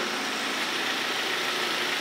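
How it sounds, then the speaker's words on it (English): Ford Focus engine idling with an exhaust leak at the front during a Seafoam treatment, a steady loud rough hiss and rumble with no break, close by. "I got an exhaust leak up front."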